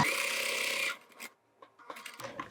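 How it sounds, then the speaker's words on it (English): A sewing machine stitches two fabric bag pocket parts together in a short, close, fast whirring run, followed by quiet rustling and handling of the fabric. "We only need to sew the two pocket parts together in the sides and the bottom."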